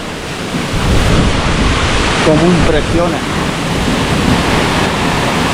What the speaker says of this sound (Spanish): La gran cascada